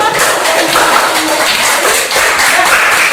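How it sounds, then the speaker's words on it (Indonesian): A classroom of students applauds a presenting group, a dense and loud wash of many hands clapping that keeps steady for several seconds. "kita berikan aplaus untuk kelompok 2"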